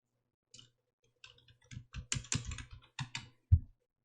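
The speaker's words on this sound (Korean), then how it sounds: "내용 타이핑 하십니다." Keystrokes on a computer keyboard during PowerPoint document entry, arriving in uneven bursts of clicks with short pauses between them, close by, quiet and with no voices.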